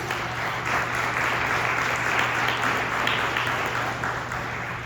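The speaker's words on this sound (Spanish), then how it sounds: "Vamos a darle un aplauso al Señor." A church congregation claps together in a sustained, even round of applause, a dense wash of hand claps holding steady for several seconds with no talking over it.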